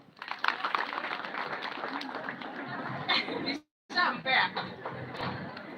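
Applause and clapping at a school careers day, mixed with children's chatter and voices, running steadily before a brief gap, then resuming in uneven bursts.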